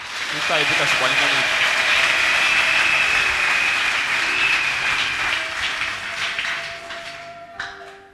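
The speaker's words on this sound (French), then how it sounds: "Applaudissez le Saint-Esprit." A church congregation applauds in sustained, dense clapping that fills the room for several seconds, with voices calling out over it before it tapers off.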